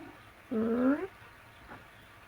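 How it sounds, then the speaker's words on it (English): A house cat gives one short, clear meow that rises and then falls, close and fairly loud over quiet room tone. "Oh look, here's the cat."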